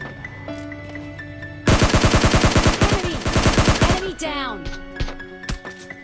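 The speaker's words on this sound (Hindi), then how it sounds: "तभी मुझे आगे की तरफ से कुछ फायरिंग की साउंड आती है" Rapid bursts of automatic gunfire from the video game PUBG Mobile, loud and close, with sharp repeated shots over game background tones, followed by a few scattered single shots.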